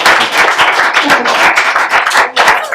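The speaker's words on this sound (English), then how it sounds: "let's give it up for Kent Molgat" Dense, loud applause and clapping from a comedy club audience for stand-up comedian Kent Molgat, sustained and close throughout with a faint voice mixed in.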